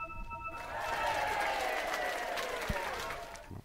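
Clapping from a small group, a steady patter of applause over a low hum, fairly soft and continuous.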